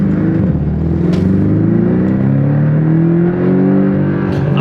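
Porsche Cayman 718 turbo engine revving under throttle, a loud, close, sustained engine drone with its pitch rising and sweeping as the revs climb.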